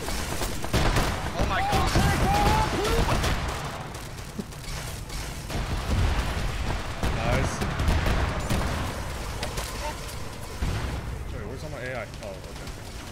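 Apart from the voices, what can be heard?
gunfire from a firefight in the video game Arma 3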